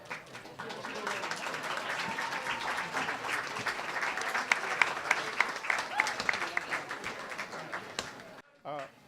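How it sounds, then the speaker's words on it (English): Wedding dinner guests clap for the bride and groom after a toast. Steady, moderately loud crowd applause carries some sharper individual claps, then breaks off abruptly as a voice comes in at the end. "First, a round of applause for a beautiful bride, beautiful, awesome groom"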